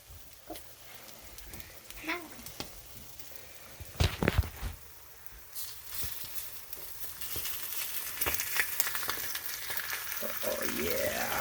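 Canned corned beef hash sizzles and crackles as it is stirred in a pan, the frying growing louder and denser toward the end, with scraping stir strokes and people talking over it.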